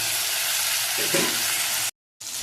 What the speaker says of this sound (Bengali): পেঁয়াজ আমার ভাজা ভাজা হয়ে গেছে এবার দিয়ে দেবো আদা রসুনের আর লঙ্কার পেস্টটা